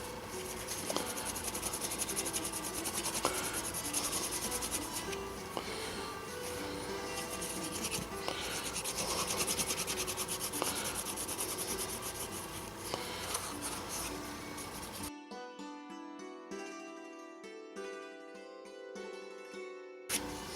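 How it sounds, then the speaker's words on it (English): A hard object rubbing along a leather edge to burnish it: a steady, close scratchy rubbing with strokes back and forth for about fifteen seconds, then quieter scraping near the end. "now to burnish, we're just going to take a hard object and we're just going to rub the edge pretty much like this"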